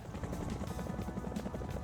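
In a video game playtest, a helicopter's rotor thumps in a fast, regular low pulse, quiet and steady, with the engine droning beneath it.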